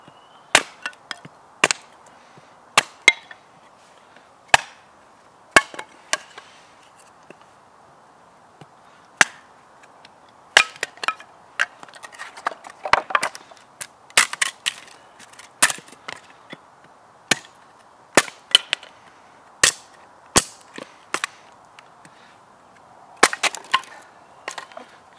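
Sharp, isolated chops of a blade splitting wood into small kindling pieces for a campfire, irregular strikes spread through the stretch, close and crisp with no talking.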